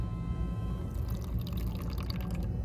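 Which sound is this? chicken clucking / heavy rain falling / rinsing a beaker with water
rinsing a beaker with water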